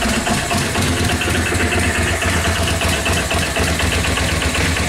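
A Yamaha Virago XV500 motorcycle engine, being rebuilt as a cafe racer, idles steadily and loudly up close, an even throbbing rumble with a ticking mechanical edge throughout and no speech.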